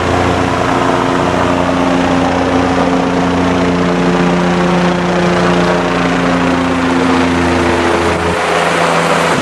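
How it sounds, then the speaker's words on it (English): A steady, loud engine drone with a low rotor-like throb continues throughout, like helicopters passing fairly close overhead above a flood-washed-out stretch of the Coquihalla Highway by a river in 2021. "There's the helicopters."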